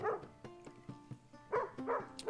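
Dogs in a video game bark and yip in short, fairly close bursts over a quiet background, several sharp barks spread across the clip.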